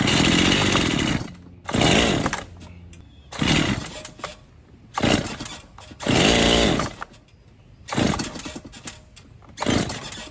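A chainsaw roars close by in repeated revving bursts while cutting a tree, surging loud then dropping to a sputtering idle between pulls of the throttle.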